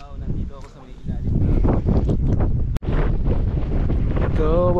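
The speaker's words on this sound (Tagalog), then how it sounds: "baba tayo ng konti kasi lakas ng hangin dito" Strong wind buffets the microphone near the summit of Mount Sembrano above Laguna de Bay, a loud continuous roar with gusts, while people talk over it and a brief sharp dropout cuts in near the middle.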